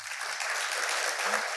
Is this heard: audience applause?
yes